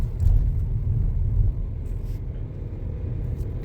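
A car engine rumbles at a steady low pitch while driving in third gear on a road, a continuous near drone with a slightly louder surge at the start.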